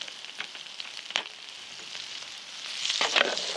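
Blitzed breadcrumbs fry in fat in a pan, giving a steady hiss and crackle with occasional sharper pops, getting a little louder toward the end.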